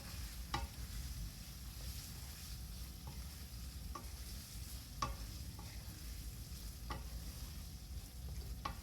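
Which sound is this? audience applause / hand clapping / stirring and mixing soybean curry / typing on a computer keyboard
stirring and mixing soybean curry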